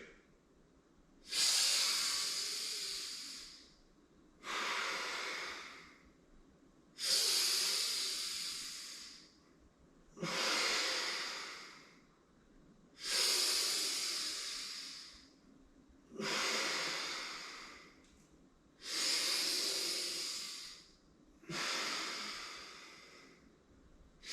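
Deep, audible breaths drawn in and pushed out during yoga head rotations. Eight or so long breathy hisses follow one another at steady intervals of about three seconds, close and clear, with quiet pauses between them.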